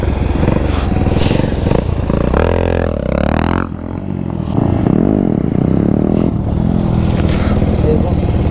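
Motorcycle ridden during wheelie training, engine running steadily near the microphone with revving rises and drops and some clatter, while people talk over it.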